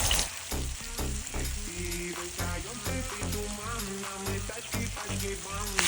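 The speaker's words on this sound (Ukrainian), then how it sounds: "Класно все смажиться, абсолютно нічого не пригорає." Loud, steady sizzling of fish frying in a steel pan, a dense crackle with music playing underneath.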